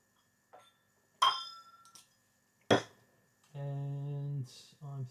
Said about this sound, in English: I'm going to pour me a glass.